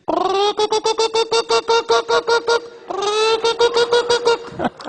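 A man vocally imitates a hen before laying an egg, producing a steady run of rhythmic, nasal clucking pulses in two bursts separated by a short breath, loud and close.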